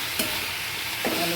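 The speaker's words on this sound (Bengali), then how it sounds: "আলুগুলো ভাজা হোক ভালো করে।" Potatoes with salt and turmeric fry in a pan under a continuous sizzling hiss, broken by two scraping stirs of a spatula.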